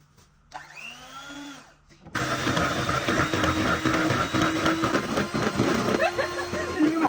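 An electric stand mixer whirs loudly and steadily in a home kitchen while a strawberry cream cake is being made, starting abruptly after a brief quieter moment with a voice.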